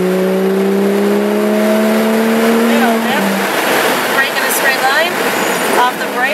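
A 2015 Porsche 911 GT3 accelerates on track, its engine note climbing in steady rising tones, then shifting into busier revving and tire noise, heard under an instructor's talk.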